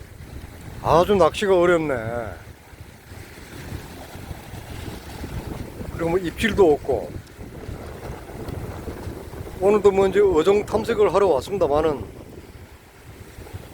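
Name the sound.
strong wind and rough waves at seaside rocks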